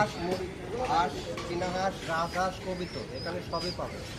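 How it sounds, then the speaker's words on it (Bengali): Pigeons coo softly among other bird sounds while several people talk nearby in a busy outdoor animal market in Dhaka selling pigeons, ducks and chickens. "এই যে আপনারা গুলা দেখতে পাচ্ছেন কারোর কবুতর লাগলে এখানে"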